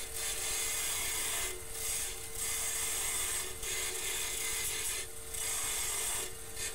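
A gouge trims pear-shaped wood stock spinning on a lathe, making a continuous rasping scrape. The scrape swells and eases in regular passes about every second and a half, with a steady motor hum underneath.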